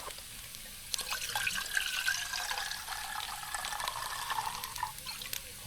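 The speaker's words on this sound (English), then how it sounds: "Pop some water in the kettle for later." Running water splashes steadily into a kettle at a campsite, a continuous bright gurgling stream with a few clinks, close by and fairly loud.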